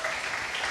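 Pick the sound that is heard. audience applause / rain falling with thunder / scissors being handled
audience applause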